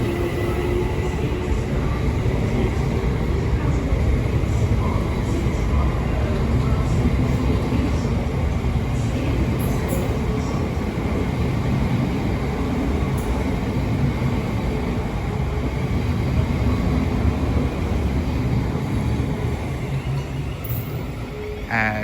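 A Southeastern Class 376 electric multiple unit, unit 376 031 on the rear, works a Charing Cross to Gravesend service at a London terminus, with a continuous rumble and whine of traction and wheels on rail and faint talk.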